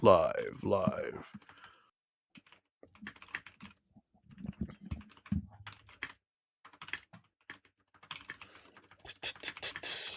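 Computer keyboard typing during a live gaming podcast, bursts of quick close clicks and clacks separated by pauses, with some speech near the start.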